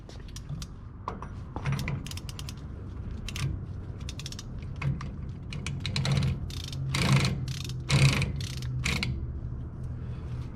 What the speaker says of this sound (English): from here, we're gonna go and torque it to 15 foot-pounds, and that'll be its final torque